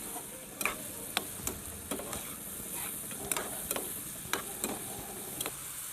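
Chicken noodles with red chili, coriander powder, garam masala and black pepper are tossed in a pan, soft sizzling under a run of sharp spatula scrapes and taps about every half second.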